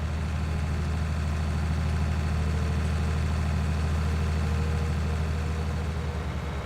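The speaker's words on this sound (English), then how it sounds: "let's bring this tractor back" A tractor engine in Farming Simulator 19 runs steadily at a low, even idle-like drone, loud and continuous throughout with no voices.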